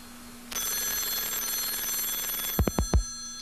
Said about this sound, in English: And your computer is ringing.